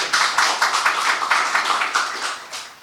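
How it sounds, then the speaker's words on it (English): An audience applauds at the launch of an IGAD leadership cohort, a steady patter of many hands clapping together in a hall, dense and continuous without voices. "Also, please clap for them."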